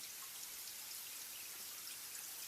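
Steady rain falls outside on a spring day, a continuous dense hiss of drops with no break or change across the whole stretch, faint and even, with no voices.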